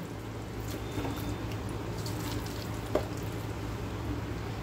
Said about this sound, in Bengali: এবারে এটাকে একটুখানি নাড়াচাড়া করে নেব। পেঁয়াজটা জাস্ট গলবে সেইটুকু টাইম আমি দেব।